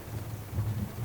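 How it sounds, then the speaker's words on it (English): Thunder rumbles low and continuous with rain falling, a soft deep roll heard close and alone. "Ooh, that's some thunder."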